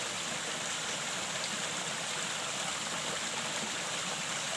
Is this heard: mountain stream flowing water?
yes